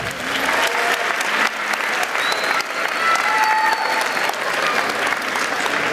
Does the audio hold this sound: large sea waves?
no